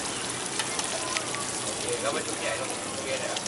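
Eggs sizzle and crackle steadily in a hot pan, close by, at a Chiang Rai breakfast stall, with a person talking faintly in the background.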